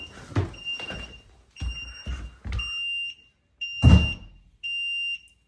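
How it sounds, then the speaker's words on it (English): Smoke detector set off by fog from a fog machine, giving short high electronic pre-alarm beeps between several dull thuds and knocks, the tones repeating at intervals. "I hear a pre-alarm again."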